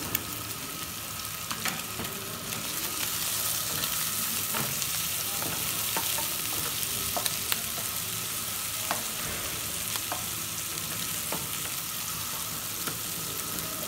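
Capia pepper and garlic frying in a pan for saç tava, an even, close sizzle with occasional spatula scrapes and light ticks throughout.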